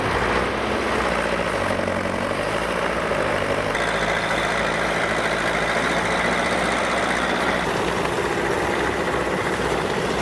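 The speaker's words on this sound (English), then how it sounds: "crawler tractors, with their powerful engines and superior horsepower, effortlessly pull the huge piles from the site." A bulldozer crawler tractor's powerful engine runs steadily and loudly throughout, a heavy low rumble that shifts in pitch partway through, as if working under load on a site.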